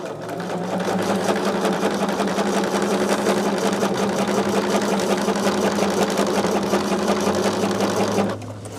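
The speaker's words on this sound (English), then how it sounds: "So what I'm doing right now is just sewing this border on." A sewing machine sews a border onto a Santa gnome project, running in one continuous, close, steady whirring stretch for about eight seconds before stopping.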